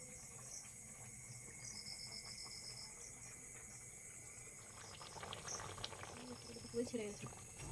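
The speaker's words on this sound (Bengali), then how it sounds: "ঝোল যখন ঠিকমতোভাবে ফুটে যাবে" Egg curry gravy simmering in a pot over a village clay stove, a soft steady bubbling under faint insect chirps, with a few louder bubbles and pot sounds toward the end.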